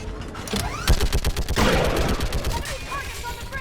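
A mounted gun in Mass Effect Legendary Edition fires a rapid, loud volley of shots, then a heavy burst trails into a lingering roar, with a voice heard faintly over it.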